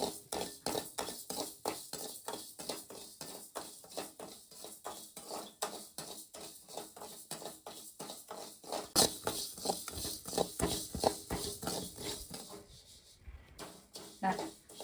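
Rice dry-roasting in a pan, stirred steadily and giving a quick, regular patter of light scraping and rattling grains, fairly faint and close, pausing briefly near the end.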